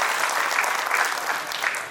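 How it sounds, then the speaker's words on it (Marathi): Steady audience applause at an agricultural awards ceremony, honoring Sanjay Jadhav, a dense wash of many hands clapping continuously for about two seconds, fairly loud and close with no voices over it. "आपण सगळ्यांनी एकदा जोरदार संजय जाधव यांच्यासाठी टाळ्या वाजवल्या पाहिजे"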